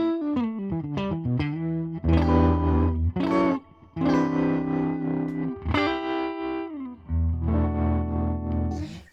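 Heavily distorted electric guitar through a cranked Boss amp with the power amp maxed, chords and single notes ringing out with thick, saturated sustain and short pauses between phrases.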